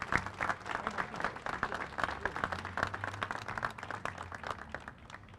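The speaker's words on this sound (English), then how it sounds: "Let's give him a big round of applause" Applause from a crowd gathered at the Louisville Slugger factory and museum, a dense, steady patter of many hands clapping at a moderate distance that carries on for several seconds before easing off slightly.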